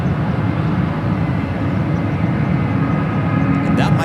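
Jet airliner arriving at San Francisco airport, a continuous low engine roar that stays steady and fairly loud throughout, heard from an outdoor spotting position.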